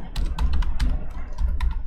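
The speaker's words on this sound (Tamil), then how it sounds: "இந்த இடத்துல நேம் டைப் பண்ணுறேன்." Someone types a name into a web form on a computer keyboard, a quick run of close, crisp key clicks over a steady low hum.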